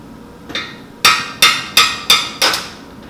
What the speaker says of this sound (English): So I'm going to tap this with a hammer here.